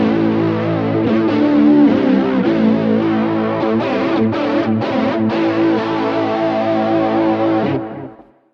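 Guitar played through an effects unit with the modulation depth turned up, sustained chords swirling with heavy chorus and distortion, loud and close, then fading out at the end.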